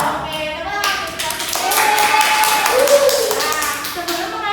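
Children in a third-grade classroom perform a rhythmic clap chant led by a teacher, with sharp patterned claps mixed with young voices chanting along, close and lively.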